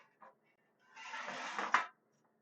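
Eggplant pieces are set down and shuffled onto a big pan, giving a short faint knock and then a second-long scraping rustle that ends in a sharper clatter, with no talking.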